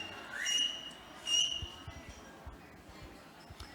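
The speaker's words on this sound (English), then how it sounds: "Big whistle again, please." Loud whistles at a charity gala dinner to call the room to attention, two sharp bursts early on, followed by faint room murmur and shuffling.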